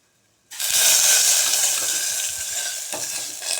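Ingredients for a red rice kitchadi frying with almonds in a pan, a loud, steady sizzle that bursts in abruptly and carries on with stirring scrapes, close and alone.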